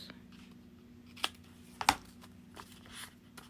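Scissors snip off excess glued paper in a papercraft project, a few short crisp cuts close by in a quiet room.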